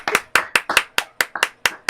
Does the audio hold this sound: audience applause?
yes